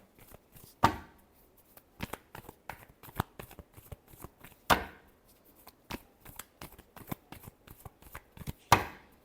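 Tarot cards are shuffled by hand in a steady run of close, crisp riffling slaps and flutters, with a few louder bursts standing out and no voices.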